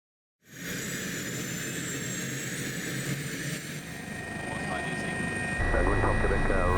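An Airmedic helicopter engine starts up, with a steady whine and turbine roar rising from silence and holding loud and close. The pitch climbs slightly near the end, and a voice can be heard faintly over it.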